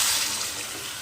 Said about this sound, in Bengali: এখন আমি এর মধ্যে একটু হালকা গরম জল দিয়ে দিচ্ছি